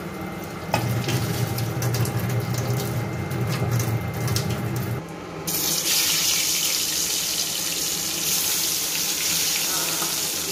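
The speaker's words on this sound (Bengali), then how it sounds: "ভয়ঙ্কর ভাবে ভাজা হচ্ছে" Hilsa fish frying in hot oil, a dense, loud sizzling hiss that briefly dips and then surges even harder, crackling steadily at close range.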